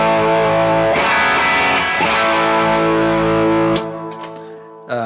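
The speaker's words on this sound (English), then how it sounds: "This SP Verb reminds me of the room verb" Electric guitar played through an SP Verb room reverb pedal, sustained chords ringing with a lush, distorted wash that decays into a long tail before a brief final strum.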